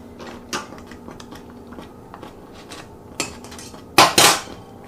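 A utensil knocks and scrapes against a pot of grits as a little more butter is worked in, with scattered soft clinks building to a couple of louder metallic clatters near the end. No one speaks.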